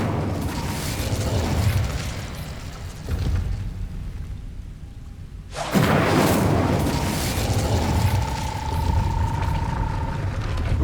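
Incendio fire spell cast in Hogwarts Legacy, a loud roaring burst that whooshes up after a brief lull, followed by a sustained crackling rumble with a faint tonal hum.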